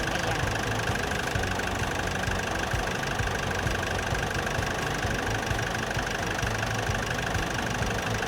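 A 2020 Nissan Urvan NV350 18-seater van runs at idle, a steady close mid-pitched engine drone with an even mechanical hum and faint rattling that holds constant the whole time, with no talking.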